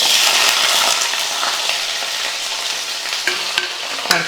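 Onions dropped into hot oil with mustard seeds burst into a loud, steady sizzle and frying hiss. Toward the end a few clattering knocks from stirring break through the noise.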